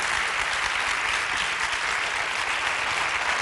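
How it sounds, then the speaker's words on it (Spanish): A studio audience on a Catalan television debate show applauds in a steady, dense wash of clapping, even in loudness from start to finish with no voices. "Podeu aplaudir, eh?"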